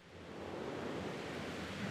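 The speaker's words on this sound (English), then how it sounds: "Now we take that example and we add some wind," Steady wind in a stormy forest scene rushes and roars as a broad, even wash of noise, with no voices.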